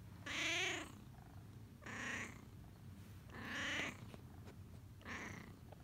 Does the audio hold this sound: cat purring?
yes